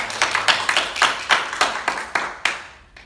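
Congregation clapping in thanks to parents on Parents' Day during a Korean church service: a short burst of rhythmic, fairly close applause that tapers off and fades near the end.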